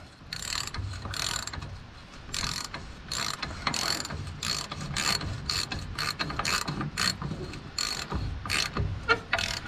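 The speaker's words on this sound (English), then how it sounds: "I've got a really long socket, because as you tighten this, the stud comes out this way." A ratchet with a long socket tightening the stud on a dump truck's air brake can, quick bursts of clicking pawl strokes repeating in an uneven rhythm, close and clear with faint shop background.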